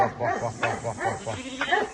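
A flock of about 110 lambs bleating, several overlapping wavering cries in close succession, fairly near and moderately loud.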